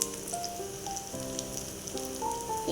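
About two kilos of varal (snakehead) fish fry in a pan for pickle, giving a steady, soft, continuous sizzle under faint tonal background music.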